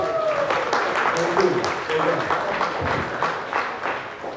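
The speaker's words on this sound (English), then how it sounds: "Give her a big round of applause" Audience applause at a social media monetisation seminar, a steady ripple of clapping from a room of people mixed with speech and scattered cheers.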